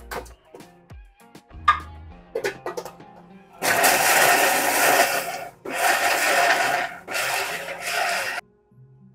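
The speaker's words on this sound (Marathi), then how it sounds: "100 ग्रॅम आलं, 100 ग्रॅम लसूण मिक्सरला बारीक करणार" A kitchen mixer grinder whirs in three loud bursts as it blends green chilies, ginger and garlic into a coarse paste for vada pav at a snack stall in Karad, preceded by soft clinks and handling noises.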